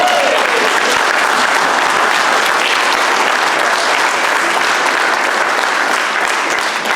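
Sustained applause from an audience at a middle school ribbon cutting ceremony, steady dense clapping throughout with no voices over it.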